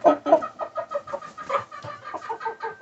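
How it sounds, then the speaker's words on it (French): Backyard chickens cluck close by in a rapid, uneven stream of short calls, heard on their own without talking. "nos poulets sont en santé et marchent"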